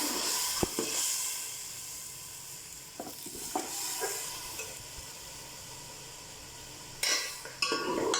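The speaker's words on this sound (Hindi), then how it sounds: "अब हम इसमें चिकन डाल देते हैं।" Chicken stirred in a hot pan for chicken palak, a soft sizzle under intermittent scrapes and clinks of a spoon against the pan, with a couple of sharper knocks near the end, no voices.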